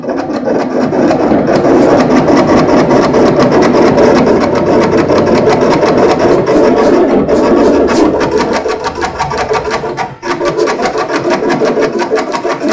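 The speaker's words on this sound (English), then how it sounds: "This cutter automatically adjusts its speed for each articulated cut." A vinyl cutter slices an inkjet-printed decal sheet, giving off a steady, loud mechanical whir and buzz with rapid repetitive chatter that briefly dips and shifts speed as the cutting head changes pace.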